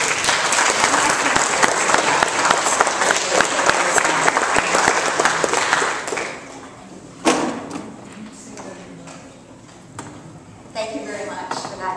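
An audience applauds to welcome poet Lorna Crozier at a Fanshawe College Letters and Arts Society event: steady, dense clapping for about six seconds, then thinning out, with a few scattered claps and thumps as it fades.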